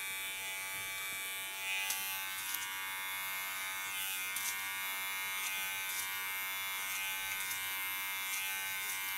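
Electric hair clippers buzz steadily and close up while cutting hair during a salon cut, with a comb held against the head as a guard; the hum stays even throughout with slight changes as the blade moves through the hair.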